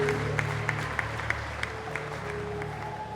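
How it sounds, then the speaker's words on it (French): An audience claps for Shana in a steady, moderate wash of applause beneath a low sustained musical drone, with a few sharper claps standing out at a regular pace. "applaudissons Shana temporairement."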